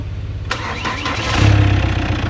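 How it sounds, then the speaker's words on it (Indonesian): A Chevrolet Captiva diesel engine cranked on the starter catches and settles into a loud, close idle with a rough, rattling knock, alone without talk. "Coba starter lagi."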